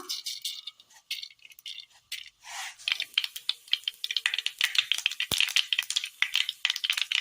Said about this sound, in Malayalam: ചൂടായ എണ്ണയിലേക്ക് കടുക് ഇട്ട് കൊടുക്കാം.